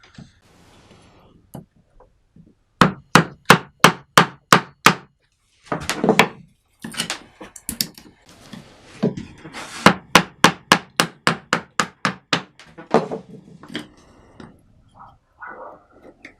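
Hand chiselling wood out of a middle lap joint, worked upwards toward the middle without a bench vise: a run of sharp, regular mallet-on-chisel strikes, close and loud, in bursts separated by short pauses.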